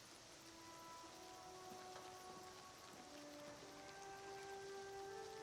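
Steady rainfall in the video game Oblivion Remastered, a continuous even hiss with faint pattering drops running through the whole stretch, alone with no talk and quiet ambient tones beneath.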